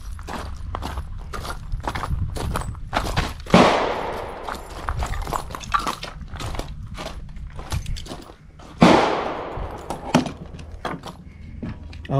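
Canik pistol shots at an outdoor shooting range, two loud cracks spaced several seconds apart with echoing decay, amid small clicks, rustling and handling noises nearby.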